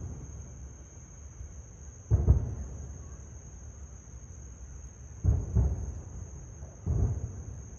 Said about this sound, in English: The 9 o'clock fireworks are going off.